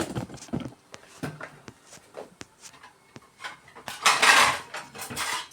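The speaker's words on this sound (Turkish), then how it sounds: "Şimdi ben tabak çıkaracağım oradan." Ceramic plates clatter and clink as they are pulled from a home kitchen cupboard, a run of sharp knocks and scrapes building to a louder, denser rattle near the end.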